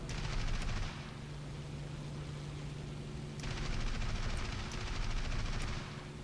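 Aircraft guns fire in War Thunder, German reserve planes: two long sustained bursts of rapid gunfire, loud and close, separated by a short pause, over a steady engine drone.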